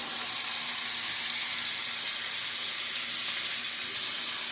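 Oxtails frying in a pan, a steady close sizzle and hiss of hot fat that runs unbroken and fairly quiet, with no talking.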